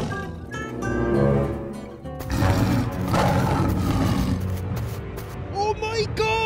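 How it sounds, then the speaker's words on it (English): A deep tiger roar rumbles loudly over a music bed, with a voice speaking at times. "Oh no, Tiger has seen the cow."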